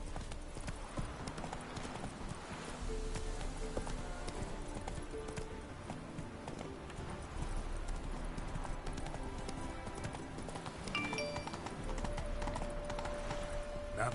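Roach the horse in The Witcher 3 moving along at pace, steady rhythmic hoof clip-clops throughout over quiet game ambience and music, with no one speaking.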